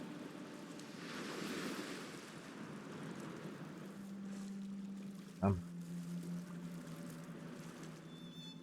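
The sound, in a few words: ocean waves in a video game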